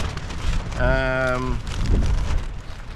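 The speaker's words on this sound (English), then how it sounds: "it's been raining on and off, well, certainly the last few hours, and we've stayed relatively dry" Rain falls on an old Dyneema (cuben fibre) tent during wild camping, making a close, steady patter on the fabric, with a brief tonal, voice-like sound rising over it midway.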